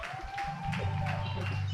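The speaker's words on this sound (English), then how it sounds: "Please, applause for the judges." Brief applause from an audience at a school English debate competition as the judges are called up, scattered claps at first and then fading under a steady low hum.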